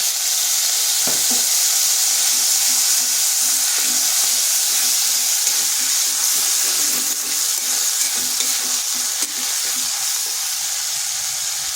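Water splashed into a sizzling pan of figs for a vegetarian Bengali curry, setting off a steady, loud hiss and crackle that holds for the whole stretch, alone with no voices.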